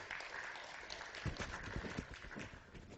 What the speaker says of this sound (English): tweet away, and give Matt a round of applause